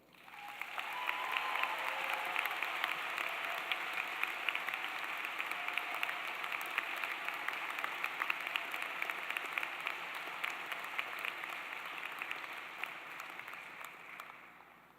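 Loud, sustained applause from a large audience at a 2017 Tulane Law School graduation ceremony, welcoming the class president to the podium; the dense clapping swells quickly, holds steady for about fifteen seconds, then begins to fade.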